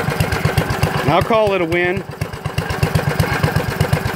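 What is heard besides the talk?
generator running on biogas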